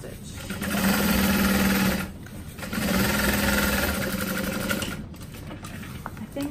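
Two sustained bursts of a sewing machine top stitching inside a barrel bag, separated by a brief pause, with a soft mechanical hum trailing off at the end.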